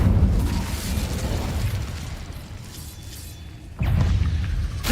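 Fiery spell blasts in Hogwarts Legacy, an Incendio burst with a heavy rumbling roar that fades, then a second loud whoosh-boom erupts near the end, close and dominant.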